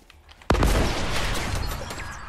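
Gunfire erupts in Fortnite: a sharp shot hits, then a dense, sustained volley of rapid firing carries on loud and steady to the end, with no talking.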